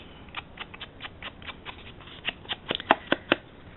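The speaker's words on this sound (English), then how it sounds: "I'm just going to come in and distress those edges." An ink blender tool scrubs along the edges of card paper to distress them, giving a quiet series of soft, irregular scratchy strokes that grow a little stronger toward the end.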